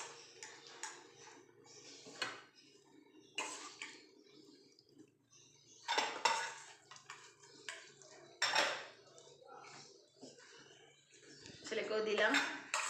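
Utensils clink against dishes while a poppy seed dish is served onto a plate, with intermittent scrapes and taps under quiet domestic background.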